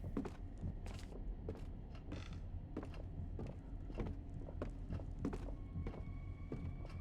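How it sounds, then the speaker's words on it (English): Repeated soft thuds and footfall-like knocks in a scene from the horror game Song of Horror, steady and close over a constant low rumble, with occasional creaks. "I can hear footsteps, and I don't like it."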